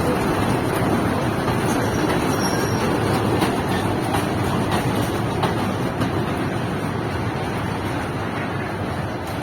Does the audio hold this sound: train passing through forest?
yes